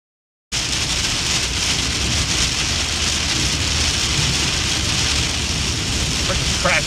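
Heavy rain pours steadily during a tornadic storm in Dallas, a dense, loud, continuous hiss that starts abruptly and holds unbroken, with low rumbling wind noise underneath.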